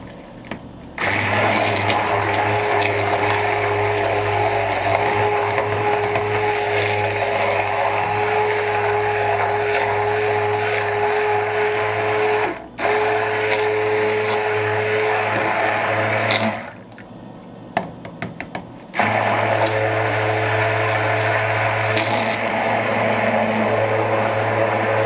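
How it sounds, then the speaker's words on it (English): A blender churns melt and pour soap mixture, a loud, close, continuous motor drone with liquid churning, briefly stopping and restarting a few times. "So I'm gonna go ahead and blend my soap."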